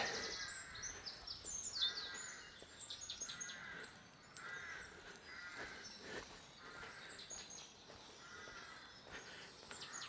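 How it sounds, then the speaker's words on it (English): A great tit calls outdoors, its faint, distant notes repeating in short bursts over about ten seconds, with other birds and a low background hum around them and no one speaking. "Great tit."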